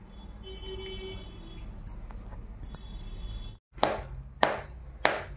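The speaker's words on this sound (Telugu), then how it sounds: "బెల్లం కొట్టుకుందామండి." Jaggery pounded for a sweet filling of chana dal, cardamom and ghee: three sharp, loud thuds in quick succession near the end, after a stretch of low household background noise.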